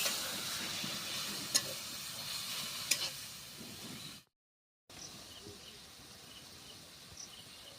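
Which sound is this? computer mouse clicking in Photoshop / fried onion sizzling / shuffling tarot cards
fried onion sizzling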